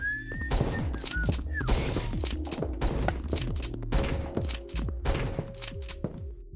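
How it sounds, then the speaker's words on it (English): Rapid, punchy 12-gauge shotgun blasts in a video game, fired over and over in dense bursts with booming low thuds and metallic clacks, loud and close throughout. "right as I discharge a 12-gauge shotgun"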